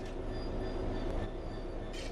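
A train in Train Sim World 4 braking to a stop: a steady rolling rumble with faint squealing overtones, continuous and fairly close, ending in a brief hiss.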